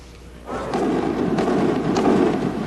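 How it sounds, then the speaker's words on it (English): Anti-aircraft guns over Baghdad fire at reconnaissance flights, a distant, sustained rumbling roar with faint scattered pops. "Anti-aircraft guns reacting to Allied reconnaissance flights in a cloudless sky"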